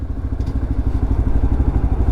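A Lexmoto LXR 125 motorcycle engine and exhaust running, a low, steady idling thrum with rhythmic pulsing and light mechanical clatter, heard close and alone.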